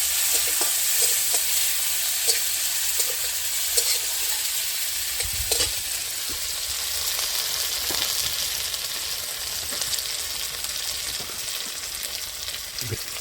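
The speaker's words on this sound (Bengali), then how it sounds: "টমেটোগুলো দিয়ে ভেজে ভেজে টমেটোটা গলে যাবে" Tomatoes frying alongside river koi fish in a pan for a spicy fish curry with stalks of bathua greens, giving a steady, close sizzle with scattered stirring scrapes and light clinks throughout, no voices.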